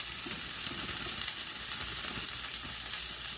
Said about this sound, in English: I'm gonna keep letting that saute for a few more minutes